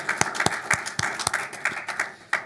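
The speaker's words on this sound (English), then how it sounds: "A round of applause for Joe, Belle, and Igor." An audience at a startup accelerator demo day gives a short round of applause, with sharp, irregular claps from a modest crowd in a hall.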